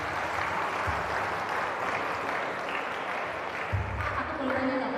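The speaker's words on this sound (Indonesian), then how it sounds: "Tepuk tangan dong buat 2 orang teman di depan" Applause from an audience at a motivational session in an Islamic school hall, a steady dense wash of clapping lasting throughout with some voices mixed in.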